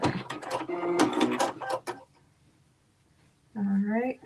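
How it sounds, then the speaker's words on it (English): Sewing machine back stitching on a KnowMe ME2069 top, a close, busy mechanical whirr for about two seconds, then quiet, before a voice starts talking. "Now, back stitch."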